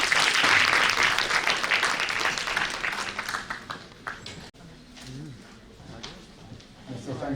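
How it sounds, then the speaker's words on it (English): Audience applause after a keynote speaker is introduced at a conference, a dense burst of many hands clapping that is loudest at the start and thins out toward the end, with a voice speaking over the tail. "May we have a huge round of applause."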